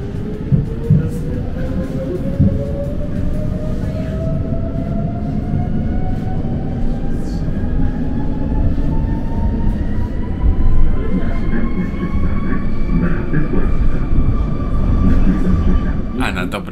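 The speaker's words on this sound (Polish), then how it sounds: "A na dobre zakończenie nowa trasa linii tramwajowej, ale tym razem od pętli" A tram runs along a new tram line in Kraków, steady rolling rumble with a rising motor whine and faint wheel squeal, close and continuous.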